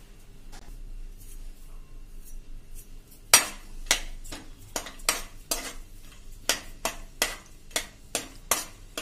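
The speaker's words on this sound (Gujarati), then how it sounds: "જે આ મગફળીના દાણા મેં 1 ટેબલ સ્પૂન લીધા છે એ નાખી દેશું અને એને સહેજ આપણે રોસ્ટ સાંતળી લેશું" Peanuts roasting in hot ghee in a pan while being stirred for rava upma: quiet at first, then a run of crisp rhythmic clatters and scrapes close by.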